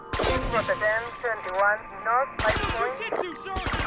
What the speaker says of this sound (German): Wie viele Schüsse hält dieses Glas denn aus?